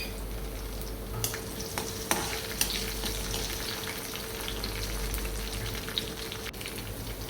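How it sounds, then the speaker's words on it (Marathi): Garlic and green chillies fry in hot oil for a bhendi bhaji, giving a continuous close sizzle with a few light stirring knocks and clicks, and no talk. "लसूण तळून झाल्यानंतर हिरवी मिरची तळून घ्यायची"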